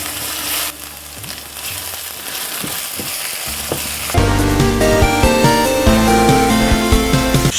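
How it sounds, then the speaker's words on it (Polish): Chopped onion sizzles loudly in a hot pan as black cardamom and green cardamom powder are stirred in, a steady frying hiss with scraping stirs that grows fuller and louder partway through, with no voices. "Dodajemy tu czarny kardamon, zielony kardamon w proszku i wszystko ładnie pomieszamy."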